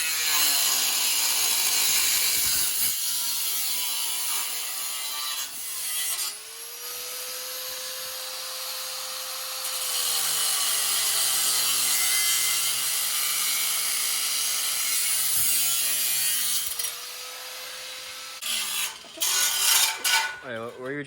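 A rotary power tool whines steadily while cutting a Honda Civic dashboard, its pitch rising and dipping as the load changes, with short pauses and a rougher, choppier stretch near the end.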